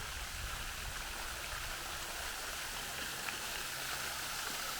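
Water runs down the roof of the Chatsworth cascade house in an unbroken broadband rush, like a steady nearby waterfall, with no talking.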